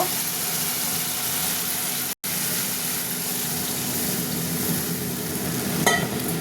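Water poured into hot oil and fried spice paste for a fish curry, a steady loud sizzle and bubbling hiss close up with one brief cut, no talking.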